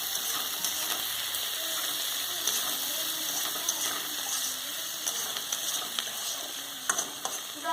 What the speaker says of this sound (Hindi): थोड़ा सा सॉल्ट डाल के इसको हम मिक्स कर देंगे